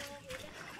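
Sea water splashing at the shore on an outing in Bohol: a brief, close wash of water, with people talking over it.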